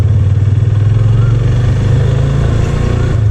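Motorcycle engine running close by with a steady low pulsing drone while the rider releases the clutch and accelerates through the gears, loud and continuous.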